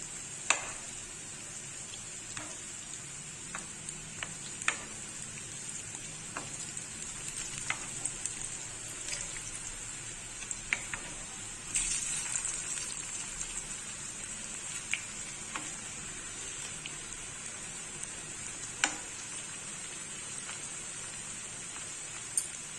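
Cauliflower and chana dal vadas fry in hot oil, a soft continuous sizzle with scattered small pops and crackles, steady and fairly quiet throughout.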